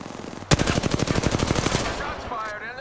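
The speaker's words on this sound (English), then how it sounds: "Shots fired and they're hitting me." Rapid automatic gunfire in the video game Apex Legends bursts in suddenly and rattles off in a fast, even string of close, loud shots for about a second and a half before stopping, with faint speech at the tail.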